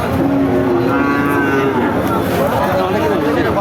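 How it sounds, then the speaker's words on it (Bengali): A cow lets out a long, low moo while people chatter close by throughout, at a cattle market in Chaugachha. "এই যে একটা গরু আপনারা দেখতে পারছেন"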